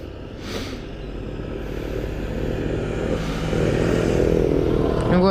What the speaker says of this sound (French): on va laisser passer le tracteur.